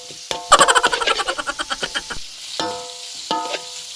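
Thin slices of beef stir-fry in a little oil, giving a quick run of rhythmic scraping and sizzling strokes, followed by a couple of metallic clanks from the pan.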